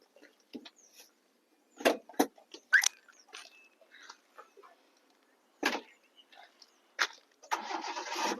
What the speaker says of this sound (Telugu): ఇంజిన్ అయితే సింగిల్ స్టార్ట్ లో సెల్ఫ్ అయింది